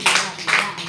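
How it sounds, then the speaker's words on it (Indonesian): Students in a classroom clap their hands together in sharp, broadband bursts, a few clustered claps spaced across a short moment, fairly close and fairly loud with no talk. "Tepuk tangan 5 kali."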